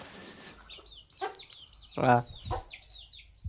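Hens cluck close by around their water at a village home, with short bursts of clucking and higher calls over quiet rural background, and a person speaks briefly.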